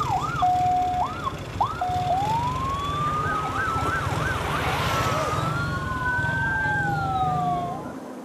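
Ambulance siren on a street in Lamongan, loud and continuous, sliding through wails, yelps and rapid warbles over steady low traffic rumble, with no voices.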